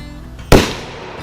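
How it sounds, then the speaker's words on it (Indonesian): A single sharp pistol gunshot sound effect, one loud crack with a short decaying tail, alone in a quiet background. "suara dari pistol saya membuat semua penjahat lari kocar-kacir"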